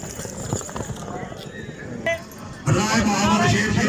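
A horse gallops through a tent pegging event at Khaad Factory, Haripur Hazara, its hoofbeats mixed with continuous announcer talk and crowd noise that swells loudly near the end.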